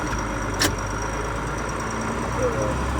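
A tractor doing ditch and dirt work strains under load, its engine a low, steady rumble with a faint knock underneath and one sharp click near the start.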